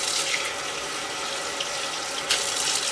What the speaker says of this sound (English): So you're just going to fill up your sink.